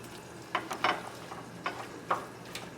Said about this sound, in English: You're gonna just stir until it's all incorporated.